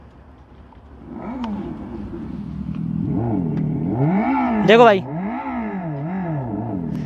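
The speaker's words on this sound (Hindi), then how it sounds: "मैं आपको चालू करके दिखाता हूँ, चालू तो बाइक पहले से ही है। और इसका साउंड सुनोगे" A Revolt RV400 electric motorcycle emits its artificial engine sound, a rising and falling synthesized motor tone that swells with throttle and peaks sharply near the end, heard close while someone talks over it.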